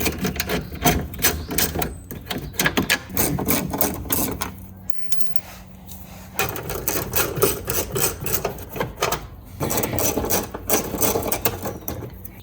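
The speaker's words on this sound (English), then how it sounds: "what I have is I have a regular size ratchet and an extension and an adapter" Ratchet with an extension and adapter turning out bumper bolts on a Porsche 911 (991.1 Carrera), rapid close clicking in repeated bursts with brief pauses between.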